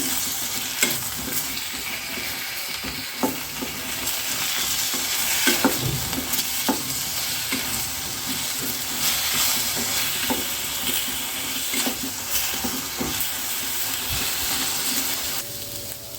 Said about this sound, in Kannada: ಸ್ವಲ್ಪ ನೀರಿನಂಶ ಇದೆ ಹಾಗಾಗಿ ಸ್ವಲ್ಪ ಚಟಪಟ ಅಂತ ಸೌಂಡ್ ಬರ್ತಾ ಇದೆ